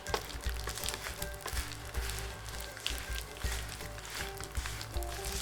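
Butter sizzles and crackles steadily on a hot plate while fide pastry bakes, a close, continuous frying hiss with small pops throughout.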